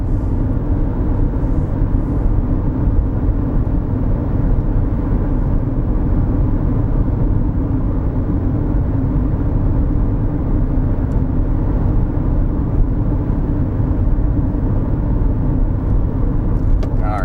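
A manual-transmission car picks up speed in traffic toward the posted limit, heard from inside as a constant loud engine and road drone that holds steady for the whole stretch, with no talk.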